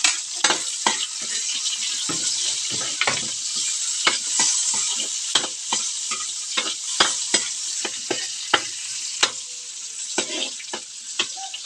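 Tomatoes sizzle and fry in a pan while being stirred, with a steady hiss under repeated scraping and clacking strokes of the utensil, close and fairly loud.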